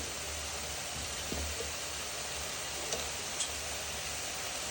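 Cabbage sabzi cooking in a pan with chilli powder, a steady, soft sizzle of frying with a few faint clicks of a spoon stirring, close and unbroken with no talk.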